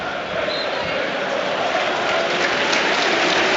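A stadium crowd at St Mary's applauds players taking the knee before a Southampton versus Manchester United match, a broad, steady wash of clapping from a large distant crowd throughout.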